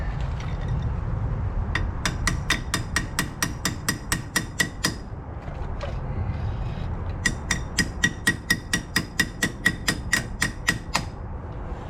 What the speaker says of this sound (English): Adjustable hammer.